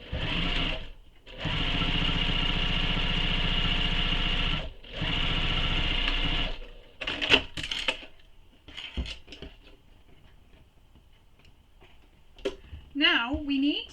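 A home sewing machine top stitches the top edge of a fabric slip pocket in two long, steady whirring runs split by a brief pause, followed by rustling, clicks and handling sounds, with a voice toward the end.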